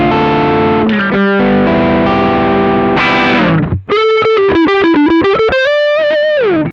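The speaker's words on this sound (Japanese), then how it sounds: "歪むんですけど、高域のキラッとした1弦2弦の音がしっかり出てるので、なんか歪んでるけど潰れすぎない" Electric guitar through a BOSS OD-3 overdrive pedal, gritty distorted chords ringing first, then a run of bright, articulate single notes with sparkling top strings, loud and alone with no voice.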